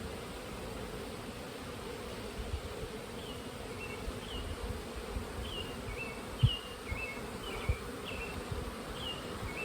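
Steady low buzzing of honey bees in a hive hums throughout, a dense drone of many bees, with faint higher chirps and a few soft knocks near the end.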